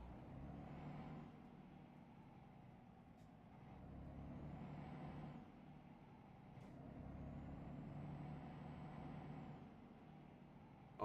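A truck driving in a trucking video game: a steady low engine rumble that rises and falls in broad swells, with a couple of brief sharp hiss-like bursts.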